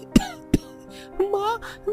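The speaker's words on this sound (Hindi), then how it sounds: "खांसी और जुकाम होने लगा था" A boy with a cold gives two sharp, separate coughs close up, then a voice starts speaking, in a Hindi cartoon.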